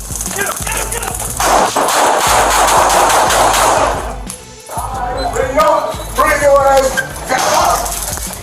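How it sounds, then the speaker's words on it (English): Rapid gunshots from police officers firing crack and pop in quick bursts amid loud shouting voices, harsh and close, with a brief lull before more shouting and bangs. "2 officers were forced to open fire"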